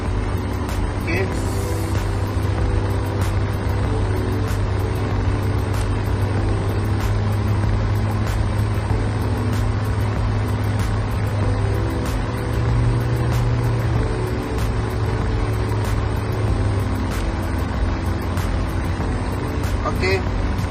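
Car engine idling steadily at 3500 RPM during an air conditioning performance test, a continuous loud drone with rhythmic ticking over it and someone speaking at times.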